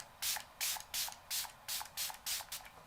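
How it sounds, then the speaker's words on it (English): Eight quick spray bursts from a hydrating face mist bottle, evenly spaced and close, each a short airy hiss, with quiet pauses between and no talking. "I still love their amazing hydrating spray."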